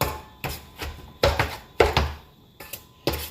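A knife chops molokhiya leaves on a board, eight or so sharp, uneven thunks spaced a few tenths of a second apart, close and distinct with no talk over them.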